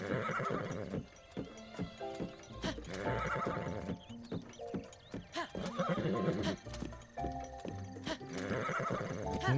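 Horse in the video game Breath of the Wild neighs and whinnies in several loud bursts over a steady clip-clop of hooves, with music and game sounds behind.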